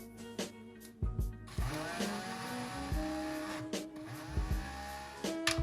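A Moulinex food processor grinds salt for Gilan-style green salt, its loud motor whirring steadily with abrupt surges and short stop-start bursts, no voices present.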